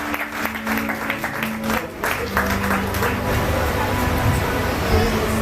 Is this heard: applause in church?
yes